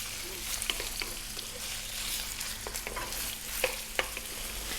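Onion sizzles steadily in a hot pan over just-above-medium heat for a lamb curry, with scattered close stirring scrapes and clicks over the constant frying hiss.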